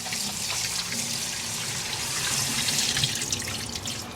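Raw chicken is washed under a running kitchen tap, a steady, close rush of water splashing into the sink with no break and no voices.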